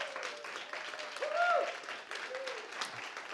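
Applause from an audience at a group practice business conference, a steady wash of clapping with a cheer or whoop rising in the middle and voices mixed in.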